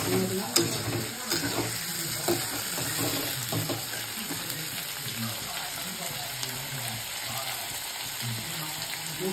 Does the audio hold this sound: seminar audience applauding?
no